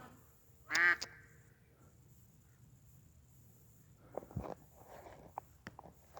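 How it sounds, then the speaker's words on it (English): A sharp, loud quack rings out near the start, then quieter quacks follow alongside soft footsteps on a quiet outdoor path. "the ducks are out"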